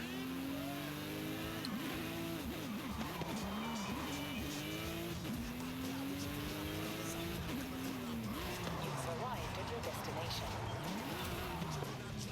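Cars racing in the video game Forza Horizon: a loud, continuous engine drone whose pitch climbs and falls through gear changes, with tire squeal and skids over about twelve seconds.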